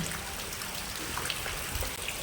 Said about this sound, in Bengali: একদিকে বৃষ্টি পড়ছে, একদিকে আমি চা খাচ্ছি।